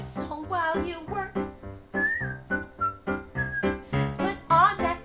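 Someone whistles a melodic Disney tune during a live song performance, a clear, close, bouncy line of separate phrases with no speech.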